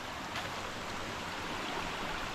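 Steady, dense rush of irrigation water flowing along the side of a mountain toward rice fields, a continuous close wash of sound with no talking over it.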